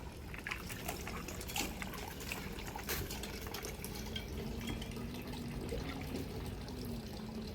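Water trickles and runs into a rural house in Laos, a faint, steady dribbling flow with small splashes and drips, heard quietly against a low background.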